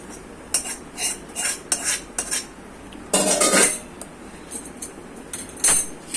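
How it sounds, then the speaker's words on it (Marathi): Cooked potato filling for egg-stuffed potato vadas is scraped from a pan onto a plate with a metal spoon, giving a series of short clinks and scrapes with one longer scraping burst, fairly close and with no talking. "ही भाजी एका ताटामध्ये आता थंड करूया"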